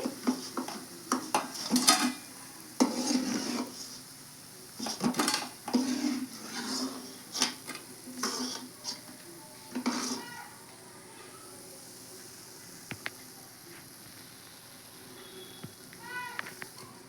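Dried fish pakoda frying in a pan and pieces lifted out: soft sizzling under repeated scraping, clinking and stirring clatter against the pan, close by, while a person talks over much of it.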